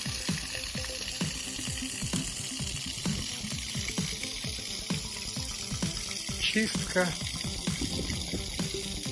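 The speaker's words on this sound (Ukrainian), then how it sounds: "Набирається вода." Water runs into a swimming pond being refilled after spring cleaning, a continuous splashing, trickling flow close by with clicking noises and some intermittent speech.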